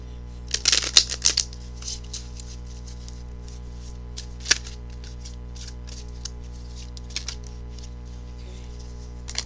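Tarot cards being shuffled in a few quick riffling bursts, then sparse soft taps and rustles against a low steady hum.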